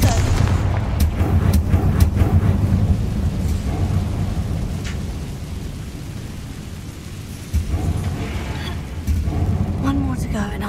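Confringo fire spell cast in the Hogwarts Legacy video game: a loud, dense burst of crackling, booming blasts rolls on continuously for several seconds, with scattered sharp impacts over a heavy low rumble.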